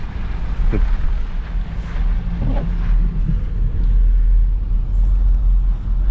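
A car rolls steadily along an old Soviet concrete runway hidden in a Czech forest, a constant low engine and road rumble filling the whole stretch with a few faint knocks over it.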